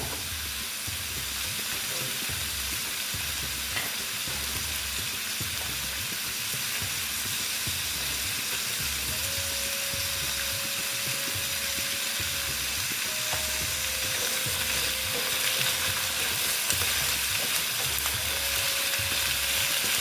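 Chayote squash and potato pieces fry in a pan for a vegetarian curry, giving a steady, dense sizzle that holds at an even level throughout, with faint stirring scrapes and a few thin tonal whines over the hiss.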